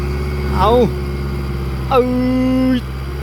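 An L-series farm tractor engine runs with a steady low drone throughout, while someone talks over it in two short bursts.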